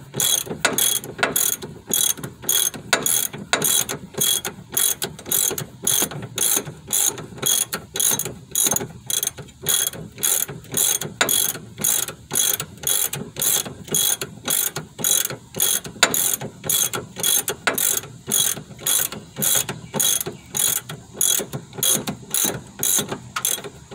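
Ratchet wrench loosening the rear shock bolts on a 2005 Chevy Malibu, a close, steady run of rapid metallic clicks repeating in even back-and-forth strokes for the whole stretch, with no talking.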